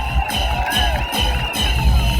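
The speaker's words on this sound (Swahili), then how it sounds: "Hebu pigieni mheshimiwa Alice makofi mazuri." A crowd at a political rally in Murang'a, Kenya, cheering and shouting with loud, dense, sustained crowd noise and whoops rising in waves, close and continuous.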